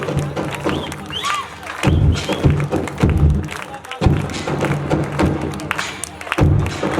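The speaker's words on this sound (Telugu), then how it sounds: "ఒక్క క్లాప్ కూడా ఎంకరేజ్ చేద్దాం" Audience at a school annual day celebration clapping in repeated bursts, loud and close, each round of applause starting abruptly and fading, with a speaker's voice over a public address system between the rounds.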